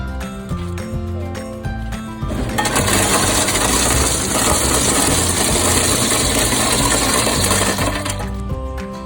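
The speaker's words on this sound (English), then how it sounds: "So every day I come and get ice from this ice machine" A campground ice machine dispensing ice into a bag, starting with mechanical clicks and whirring, then a loud, steady rattling rush of ice cubes for about six seconds before the machine winds down.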